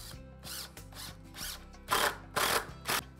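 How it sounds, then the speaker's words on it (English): A power drill drives screws into the underside of a wooden tabletop, its motor whirring in several bursts that grow louder and harsher as each screw bites and seats, with brief pauses between runs. "Just gonna use a few screws to attach it to the bottom."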